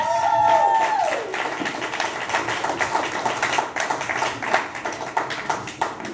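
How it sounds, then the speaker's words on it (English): Audience applause at a poetry night, dense clapping from a crowd that runs steadily throughout at fairly loud level, with a brief cheer or whoop near the start. "can we give him another round of applause?"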